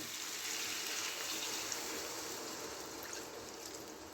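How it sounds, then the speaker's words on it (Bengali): Water is poured a little at a time into spice masala frying in a pan for a Bengali vegetarian pumpkin, potato and pointed gourd dish, giving a steady, even hissing rush with no break. "এবার আমি এখানে অল্প করে জল দিয়ে"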